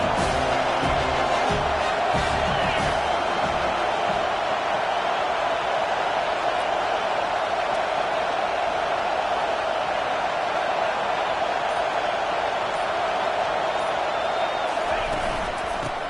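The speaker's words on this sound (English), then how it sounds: "Third down, and this crowd is tearing the lid off this place." A stadium crowd at a college football game roars loudly and steadily on third down, a sustained wall of cheering noise that fills the whole stretch.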